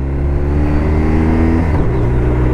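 Engine of a 2023 BMW R 1250 RT touring motorcycle, a loud, close, steady drone that dips and shifts pitch partway through as the revs change, no voices over it.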